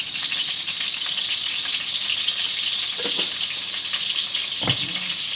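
Oil sizzles and fries steadily in a pan after turmeric goes in with fried eggs, with a couple of brief stirring scrapes partway through.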